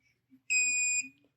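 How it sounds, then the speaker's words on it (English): A single steady electronic beep from an Autel diagnostic tool connecting for a Mercedes, loud and high-pitched, holds for about half a second after faint low murmurs. "Once you hear that beep, you're about ready to go."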